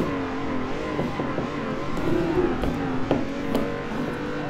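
Racing video game car drifting, played on a Thrustmaster T300 wheel: a steady engine drone with rising and falling revs and brief sharp knocks, continuous and moderately loud.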